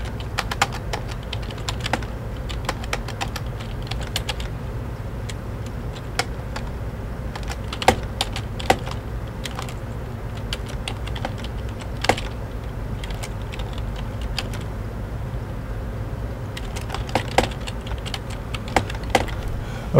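Someone types on a computer keyboard, producing irregular close key clicks with occasional sharper taps over a low steady room hum, continuing throughout without speech.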